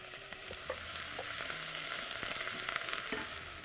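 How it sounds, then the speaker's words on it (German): Garlic, ginger and chili sear in very hot margarine, giving a loud, steady hiss of frying with small crackles and pops close by, without any voices. "Knoblauch, Ingwer und Chili kommt jetzt hier rein und wird ordentlich scharf angebraten"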